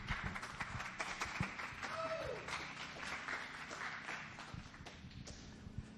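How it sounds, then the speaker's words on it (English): An audience at a grow-industry presentation event claps for a presenter with sustained, even applause, a few individual claps standing out, and a voice briefly heard over it. "Give him a round of applause, everyone."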